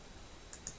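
Two quick, faint computer mouse clicks in Excel, close together over a quiet room hiss.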